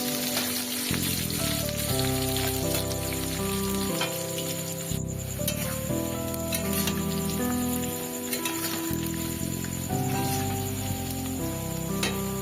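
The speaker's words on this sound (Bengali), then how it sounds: "তারপরে আলুগুলো তেলের ওপরে একটু ভেজে নিতে হবে" Potatoes fry in hot oil for a Bengali rohu fish bhuna, giving a steady, close sizzle that runs the whole time beneath background music.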